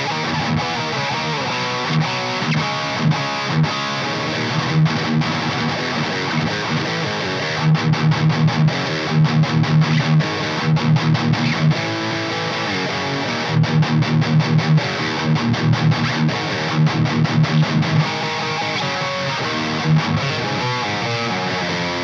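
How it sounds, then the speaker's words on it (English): Distorted, overdriven electric guitar playing loud riffs and chords through a crunchy modded Marshall valve amp, with rhythmic chugging passages and sustained notes. "let's have a listen to some Marshall tones"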